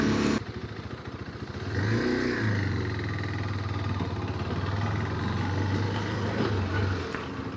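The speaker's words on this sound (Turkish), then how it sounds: "Tek silindir olmasına rağmen 45 beygirlik bir güç üretiyor tek silindirli 373 e, santimetre küplük bir hacmine sahip olan bu motor." A single-cylinder 373cc KTM 390 Adventure motorcycle runs on the road with its engine thrumming steadily and rising in pitch as it accelerates, all mixed with wind noise and no voices.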